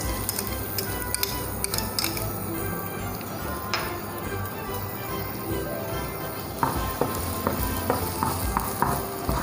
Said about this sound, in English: Once the oil is heated, we will add in our garlic to it.